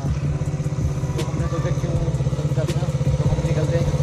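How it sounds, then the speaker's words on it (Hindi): KTM 390 motorcycle engine idling after being started, a steady low throbbing pulse that stays close and fairly loud throughout, with no talk over it. "और बाइक को स्टार्ट किया है अभी वर्मा भाई ने,"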